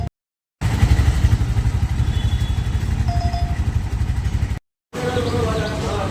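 A gas-fuelled auto rickshaw engine runs close up with a loud, rapid chugging putter, cutting out briefly twice before picking back up.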